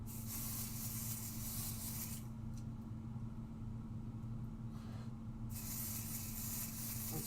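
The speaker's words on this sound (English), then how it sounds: "And spray that onto the back of our stencil." Pixie adhesive spray is sprayed onto the back of a stencil on a stick and stamp mat. Two sustained hissing bursts are split by a pause, close and fairly quiet, over a low steady hum.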